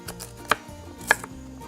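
Knife chopping carrots on a cutting board, two sharp distinct chops about half a second apart, close and clear over a quiet kitchen hum.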